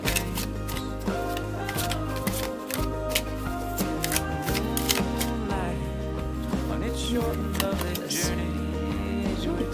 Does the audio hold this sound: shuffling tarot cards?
yes